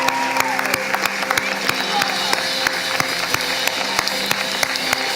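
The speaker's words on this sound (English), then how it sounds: "can we give a huge round of applause to everybody who stood up?" Applause from a crowd, fairly loud and continuous, with a few distinct sharp claps standing out over the steady clapping.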